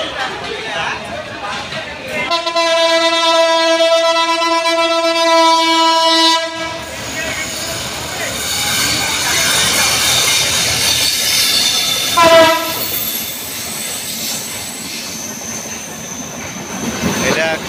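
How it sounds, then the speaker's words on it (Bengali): A Dhaka–Kolkata express pulls into Dhaka Airport railway station in Bangladesh, its loud, sustained horn blaring for about four seconds before the rumble of rolling cars and a brief wheel squeal, with station chatter around it. "আমার ট্রেন এসে পড়ছে।"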